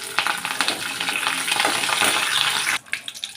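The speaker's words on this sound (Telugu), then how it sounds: "కొద్దిగా జీలకర్ర వేయించుకోవడం ఇందులో కొద్దిగా కరివేపాకు" Cumin seeds and curry leaves crackling in hot oil, a close, loud, busy sizzle with stirring scrapes that drops away abruptly near the end into softer popping.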